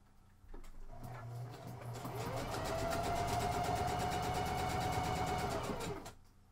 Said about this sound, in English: I'm going to go quick to my sewing machine and I'll be right back.